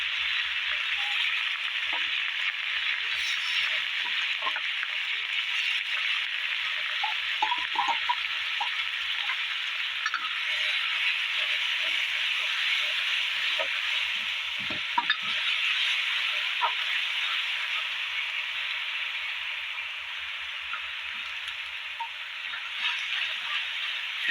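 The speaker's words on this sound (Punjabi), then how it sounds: "ਤੇਲ ਆਪਣਾ ਗਰਮ ਹੋ ਗਿਆ ਆਪਾਂ ਨੇ ਜੀਰਾ ਵੀ ਪਾਤਾ ਜੀ ਵਿੱਚ ਨਾਲ ਹੀ ਆਪਾਂ ਪਾਤਾ ਪਿਆਜ਼" Cumin seeds and onions fry in hot oil for stuffed bitter gourd, giving a loud, steady, close sizzle throughout, dotted with faint stirring clicks, and no talking.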